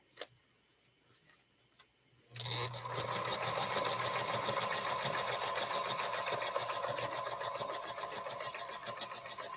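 Sewing machine stitching half-square triangles on paper, starting after a few faint clicks and then running steadily with a fast, even mechanical ticking hum that is close and continuous to the end.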